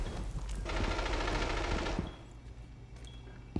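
Rapid automatic gunfire in Rainbow Six Siege, a loud close burst lasting over a second, followed by quieter game ambience and a few faint clicks.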